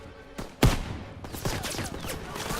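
Machine-gun fire in Call of Duty WWII's D-Day beach assault: scattered sharp gunshots and a loud close crack, then a dense volley of distant shots over battlefield noise.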